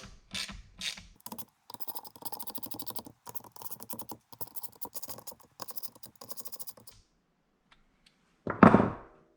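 Ratchet wrench snugging down the camshaft cap bolts on a 2.4 Ecotec cylinder head, a run of quick close clicking strokes in short bursts, followed by a brief louder clatter near the end; no talking.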